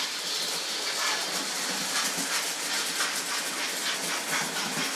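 Two model trains run together on the track: a steady, close mechanical whir with a fast rattling clatter of small wheels on track, continuous and even throughout, with no talking.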